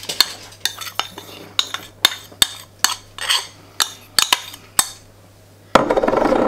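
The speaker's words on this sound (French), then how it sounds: "ça c'est juste pour la vinaigrette, hein, tout mélanger les ingrédients" Vinaigrette of lime juice, salt, garlic and honey being mixed in a bowl, a series of sharp clinking taps and scrapes in an irregular rhythm, close and distinct, ending in a burst of rustling noise.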